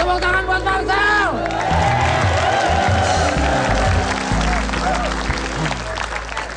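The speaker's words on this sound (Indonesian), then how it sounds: "Tepuk tangan buat Marcel." Studio audience applauding and cheering for Marcel on the Indonesian comedy show Opera Van Java, with whoops over steady clapping and music or voices mixed in throughout.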